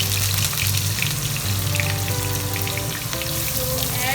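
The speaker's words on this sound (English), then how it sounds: "So add this chopped onion and fry nicely" Chopped onion fries in a pan, giving a dense, continuous crackling sizzle close by with a faint underlying hum and no voices.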